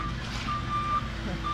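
Excavator reversing alarm on a work site, a steady run of high electronic beeps repeating over a low rumbling engine and truck noise, no voices.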